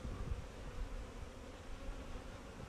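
Honey bees buzz faintly around a small queen-rearing box, a low continuous hum with soft rustling, steady and quiet without speech.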